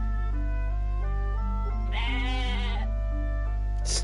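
Goat bleating as a stock sound effect in the video game Atelier Ryza, a single wavering bleat over a steady game music bed.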